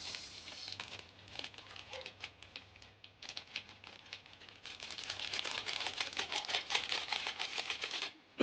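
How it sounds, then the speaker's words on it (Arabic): Contents of an instant noodle packet, dry noodles and seasoning, are shaken out into a bowl with a quiet, close crinkling of plastic and a dense patter of small pieces, growing busier toward the end. "نفضي محتويات الكيس."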